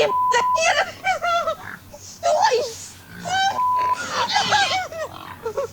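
Pigs grunt and squeal in a close, busy run of nasal, rising calls that nearly fills the stretch, with brief pauses between bursts.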